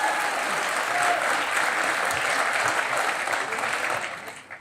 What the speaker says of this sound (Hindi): ये कमाल है कि हमारे यहाँ बहुत सारे फिल्म स्टार्स भी आते हैं मगर इतनी देर तक तालियां नहीं मारते उनके लिए।